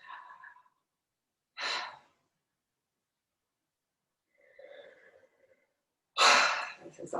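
Slow, audible exhalations during kriya yoga pranayama breath work, a few separate breaths spread out with quiet gaps between them, close and fairly soft.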